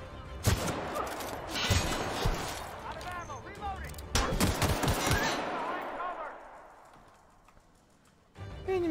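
Rapid bursts of gunfire from a weapon in The Outer Worlds, loud and close, two long volleys with voices shouting between them and a ringing tail fading out.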